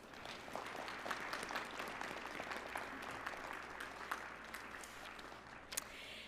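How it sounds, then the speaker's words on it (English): Sustained applause from a university commencement audience honoring staff, dense steady clapping at moderate volume throughout with a few sharper claps standing out near the end. "Would you give them a round of applause?"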